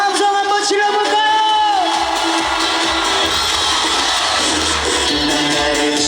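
A festival crowd at an outdoor cultural square cheers and shouts loudly and steadily throughout, with whoops rising over sustained music from the stage.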